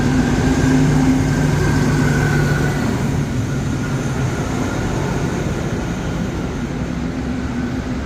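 A train on the Pa Sak Dam line rumbles past near km 11 before an elevated track, a steady, continuous roar of wheels and engine noise, loud and unbroken, with no voices.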